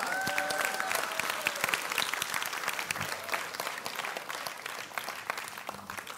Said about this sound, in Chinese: 掌声是自己讨来的